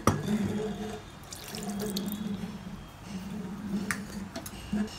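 Water is poured into a mixer grinder bowl while lemon mint juice is made. It sounds like a close, steady running stream with a faint gurgle that lasts about five seconds, with no talking.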